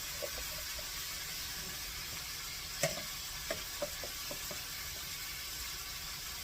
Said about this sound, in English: We're just going to throw in some garlic.